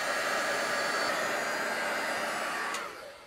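A hair dryer blows on freshly coloured rice paper, giving a loud, steady rushing roar that stays constant for about three seconds before dropping away at the end.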